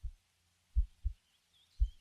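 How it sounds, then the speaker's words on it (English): A slow, soft heartbeat in a quiet setting, low muffled thumps in a lub-dub pattern, faint and alone with no talk. "I hear a heartbeat. Weak, but still there."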